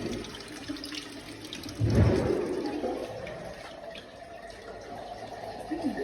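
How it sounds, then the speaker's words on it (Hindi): A bucket filled under a running tap spills over, water splashing and pouring steadily with a louder gush early on, then a continuous trickle and patter. "भर गया और गिर रहा था पानी।"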